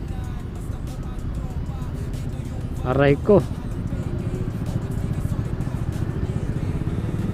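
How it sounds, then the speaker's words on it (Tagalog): Road traffic on a motorcycle ride in Batangas: a steady low rumble of engines and passing vehicles, a brief horn-like tone in the middle, and people talking over it. "Traffic yata itong rutang dinaanan namin"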